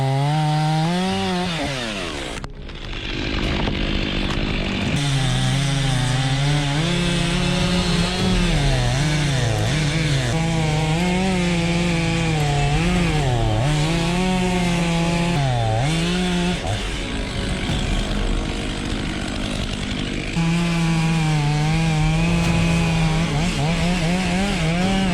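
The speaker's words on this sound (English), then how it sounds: "the operator carefully guides the saw through each pre-planned cutting angle to ensure a controlled and efficient felling process" A chainsaw cutting into giant trees during felling, its loud engine whine rising and dipping continuously as the saw bites and eases through the wood, with a short pause near the start and another near the end.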